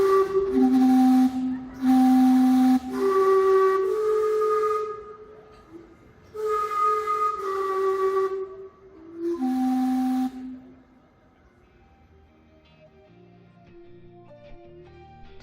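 Loud steam whistles sound in several long chord-like blasts with hissing steam, then fade into quieter background noise.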